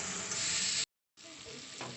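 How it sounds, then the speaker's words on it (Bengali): Turmeric and chili powder masala frying and being stirred in a pan, a loud bright sizzle that drops out briefly, then resumes with scraping stirs. "এবার হচ্ছে হলুদ গুঁড়ো দিলাম, ঝাল লঙ্কার গুঁড়ো দিলাম, দিয়ে মশলাটা কাঁচা গন্ধ যাওয়া পর্যন্ত একটুখানি হচ্ছে কষে নিচ্ছি।"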